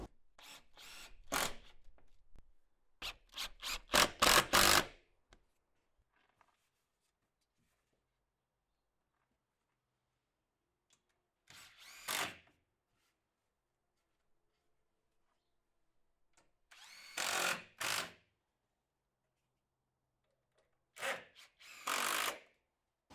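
A cordless drill driving screws to fix a trim batten ripped from a 2x4 onto a wooden shed, heard as a few short separate whirring bursts with quiet pauses between them.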